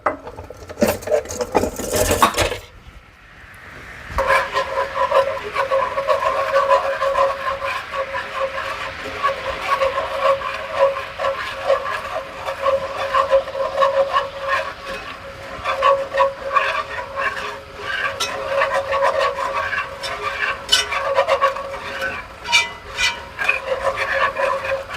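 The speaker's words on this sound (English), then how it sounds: "We're going to put that in there and we're going to be whisking it in." Flour being whisked into a skillet, a continuous close rasping scrape of the whisk against the pan after a brief clatter at the start, with no talking.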